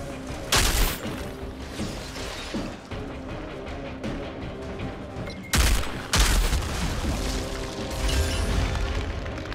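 Enemy gunfire in the video game Outriders rattles in dense bursts throughout, with heavy blasts and booms near the start and middle over a busy combat mix.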